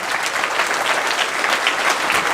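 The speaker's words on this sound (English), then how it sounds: "give them a big round of applause." Children and an audience at a San Antonio 2024 commercial steer speech awards ceremony give a big round of applause for sponsors, loud, steady clapping filling the whole moment.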